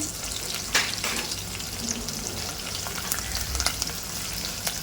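Ingredients frying in a pan for a dry pumpkin sabzi, a loud, steady crackling sizzle up close with occasional stirring knocks and no one talking.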